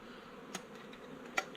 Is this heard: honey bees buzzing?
yes